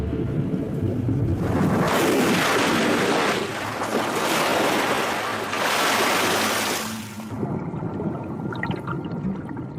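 A male whale blowing bubbles underwater as an aggressive display: surging, rushing bursts of bubbly water swell and fade in a few loud waves over a steady ocean wash, then settle to a quieter churn.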